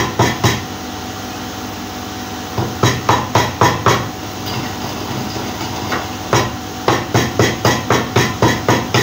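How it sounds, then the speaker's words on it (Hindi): Black peppercorns pounded by hand in a kitchen, loud repeated thuds in irregular bursts, at times coming quickly in runs, with a faint hiss of spices roasting in the background. "इधर मैं काली मिर्चें कूट रही हूँ"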